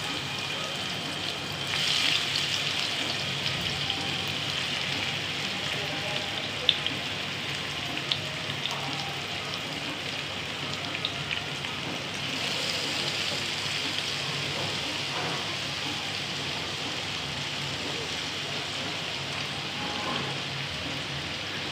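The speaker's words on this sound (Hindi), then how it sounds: "ये सॉफ्ट हो जाए जब तक इसको हम ऑयल में फ्राई करेंगे।" Raw green mango pieces fry in hot oil for a sour methi chutney, giving a steady, soft, continuous sizzle and crackle with no voices.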